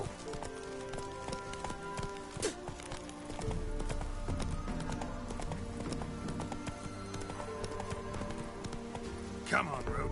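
Roach, a horse in The Witcher 3, gallops in a steady clip-clop rhythm that grows louder partway through, with game music and ambience underneath and occasional louder accents.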